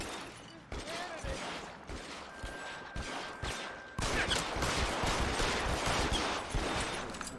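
Rapid bursts of automatic gunfire in a video game, fairly close and steady, growing louder and denser midway with overlapping shots, under game ambience and occasional speech.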